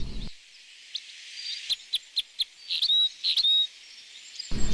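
Crossbills call near their nest high in pine trees, a series of short sharp chirps and a few whistled notes, clear and fairly close against a quiet background.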